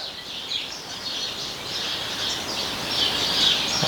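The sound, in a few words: birds singing outside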